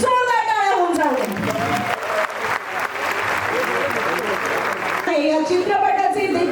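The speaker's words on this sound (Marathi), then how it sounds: "इलू इलू या चित्रपटाच्या ट्रेलर लॉन्च साठी अख्ख्या टीम साठी जोरदार टाळ्या होऊन जाऊ" An audience at a film trailer launch event claps in a loud, sustained burst of applause. An amplified voice speaks at the start and again at the end, over and around the clapping.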